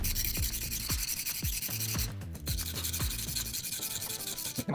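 A steady, gritty rubbing scrape of a chipped knife blade on a whetstone repeats back and forth, close and continuous, with a brief pause partway through.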